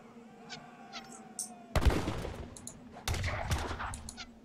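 Heavy cannons fire in a busy Age of Empires III battle. Two loud, close booming blasts arrive about a second apart, each followed by crackling impacts, with faint game effects beforehand.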